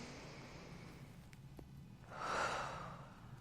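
A single soft, slow breath during a guided EFT tapping relaxation session, drawn in quietly and let out alone against a faint background hum.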